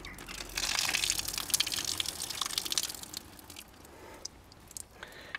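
Water tipped out of a rechargeable underwater spa vacuum pours and splashes into a drain, a steady close trickling gush that thins into scattered drips.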